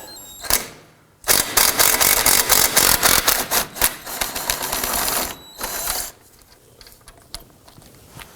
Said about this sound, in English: Now right here is a pinch bolt. It is a 16mm and it attaches our ball joint to the knuckle itself. I wanna go ahead and loosen and remove this.